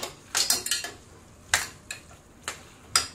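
Sautéed spinach being stirred in a pan for palak sabji, with a few sharp clinks and scrapes of a utensil against the metal, coming in short irregular bursts with quiet gaps between them.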